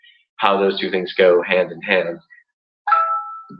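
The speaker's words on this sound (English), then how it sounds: "that was my phone that you might have just heard" A short electronic ding from a phone notification rings out faintly, a single tonal chime that follows a woman's speech.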